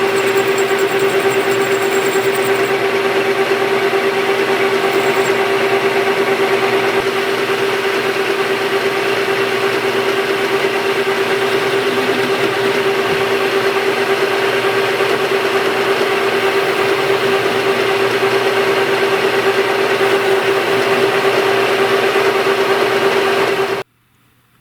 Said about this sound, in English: I put it back in and I go and round off the edges here smoothly with the cutter